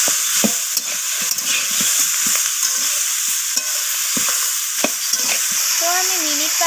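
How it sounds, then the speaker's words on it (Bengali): Ginger paste and salt sizzle steadily in an oiled pan while a spoon scrapes and stirs, giving sharp intermittent clicks over the constant frying hiss, with a brief spoken remark near the end. "তো আদা আর লবণটাকে আমি আবারও কষিয়ে নিচ্ছি।"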